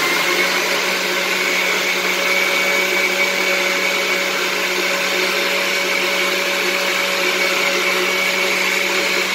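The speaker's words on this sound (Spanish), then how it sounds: "Ahora vamos a darle a licuar" Blender whirring steadily as it blends coquito, a loud, continuous motor drone with no breaks and no talk.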